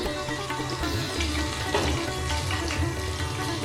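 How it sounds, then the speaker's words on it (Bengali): Prawns fry in hot oil in a pan, a dense steady sizzle and hiss that holds without a break, close and continuous with no talking. "চিংড়ি মাছও ভেজে তুলে রাখছি।"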